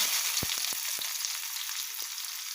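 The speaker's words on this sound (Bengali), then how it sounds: "তেল গরম হয়ে গেছে এবারে দেব পেঁয়াজ" Onion frying in hot oil in a pan, with a continuous crackling hiss up close and a few soft knocks of a utensil near the start.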